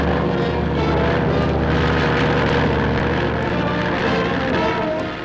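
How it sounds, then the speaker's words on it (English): A 1947 aircraft engine roars loud and continuous during an aerial coyote hunt over snowbound plains, a steady droning rumble with wind noise and no talk. "The roar of the engine drives the coyotes out of their lairs"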